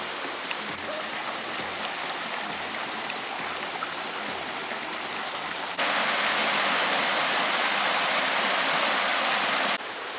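A woodland stream on the walk to Santiago flows steadily in a continuous broadband rush, rising to a louder, brighter surge for a few seconds before settling back.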